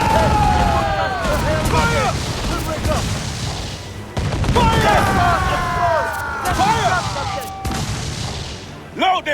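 Naval cannon broadsides from a sailing ship in the video game Assassin's Creed 4 Freedom Cry, two heavy booming volleys with rumbling tails, mixed with shouted crew voices and whistling shot.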